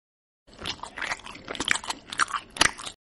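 Crunchy bites and chewing on fried chicken come up close after a short silence, a quick run of crisp crackling crunches that grows sharper toward the end, with no speech.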